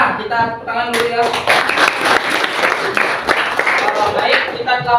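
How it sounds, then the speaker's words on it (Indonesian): A group of schoolchildren claps together, steady and fairly loud throughout, with voices talking over the clapping. "kita tepuk tangan dulu ya."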